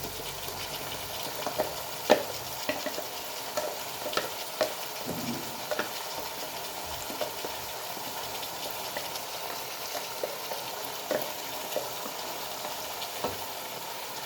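Chicken fries in a pan as a thick green paste is stirred in, giving a steady sizzle broken by repeated scraping and clinking strokes of the spoon through the mixture.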